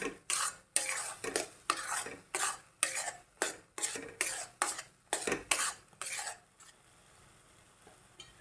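A homemade amla chyawanprash mixture with jaggery is stirred in a pan over low heat, giving about a dozen steady, rhythmic scraping strokes up close before the stirring fades to a quiet simmer.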